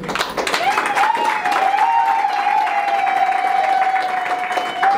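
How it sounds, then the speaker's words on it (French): Guests applaud at a civil wedding ceremony in a French town hall, steady clapping sustained for several seconds under a sustained tonal hum, with a voice briefly audible. "Applaudissements."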